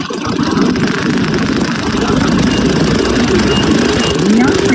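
A Honda Scoopy motor scooter engine runs close and loud, giving a steady buzzing drone with no break.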